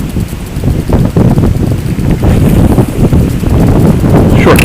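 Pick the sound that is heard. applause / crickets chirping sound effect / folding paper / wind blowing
wind blowing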